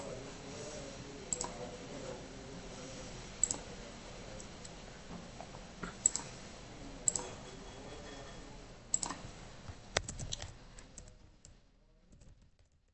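Keys are typed on a computer keyboard while a password is entered during a Linux login. Scattered soft clicks, faint and close, sit over a low steady hum.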